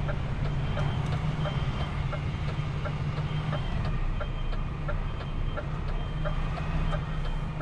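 A 20 m long truck backing up along a street, its reversing alarm beeping in a steady, evenly spaced rhythm over a constant low engine drone.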